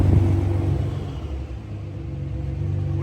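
A Nissan GT-R's 4.1-litre twin 66mm turbo V6 idles after a cold start through a 4-inch valved exhaust, giving a deep steady rumble that is loudest at first, then eases and settles.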